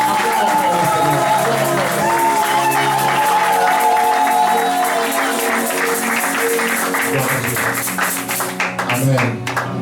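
Congregation clapping at a church thanksgiving service held in memory of a pastor, steady rhythmic applause blended with loud music and voices throughout, close and full.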